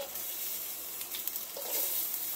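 Dried red chillies sizzling in hot oil with mustard seeds in a Kerala kitchen, a steady soft frying hiss with faint crackles, fairly quiet and close.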